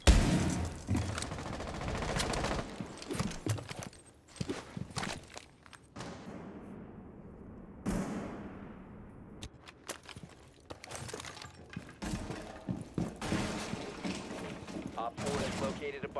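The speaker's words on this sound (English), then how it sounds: "He just shoots through the wall?" Gunfire in Rainbow Six Siege punching through a wall, with rapid bursts and scattered shots, louder early and late, and a quieter stretch in between, plus footsteps and people talking.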